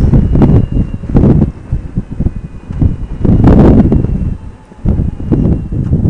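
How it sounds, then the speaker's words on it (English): Strong side wind buffets a rider on a motorcycle with the 4-inch Vaquero visor removed, a loud, continuous roar surging and easing in gusts close to the helmet, with no talk over it. "I'm getting some buffeting, but I'm getting a lot of side wind"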